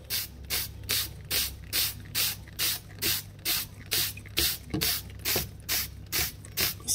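Liquid spraying or gushing in regular rhythmic bursts, about two pulses per second, loud and close, with a steady low hum underneath.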